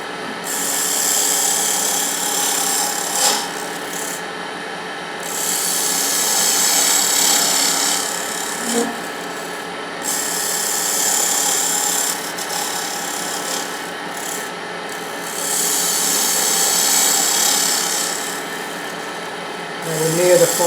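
Lathe turning a sphere with small light cuts, a steady machine hum with a faint rasping tool-on-workpiece texture that swells and eases in repeated passes, no talking.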